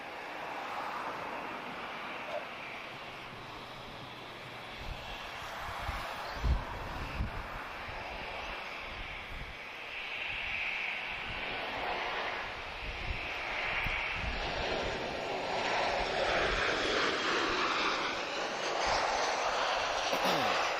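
A Transavia Boeing 737-8K2 arriving from Eindhoven at Lisbon Airport, heard as a broad, rising jet engine roar that swells and stays loud toward the end, mixed with wind buffeting on the microphone.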